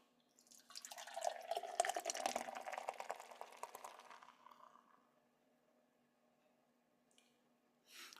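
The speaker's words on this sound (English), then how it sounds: "Could you hear that pour?" Lagunitas IPA beer is poured close up as a foamy, fizzing gush that swells for a few seconds, then thins and fades into a quiet trickle and a faint clink.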